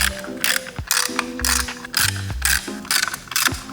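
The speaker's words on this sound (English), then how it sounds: "I'm gonna take a 10mm ratchet and remove this skid plate or bash guard with 4 different bolts" 10mm ratchet clicking in bursts while removing skid plate bolts on a DR-Z400sm motorcycle, close and loud with repeated rapid pawl clicks and brief pauses between strokes.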